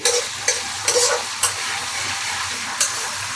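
Vegetable noodles stir-fried in a hot pan, a steady close sizzle broken by several sharp scraping stirs at an irregular rhythm.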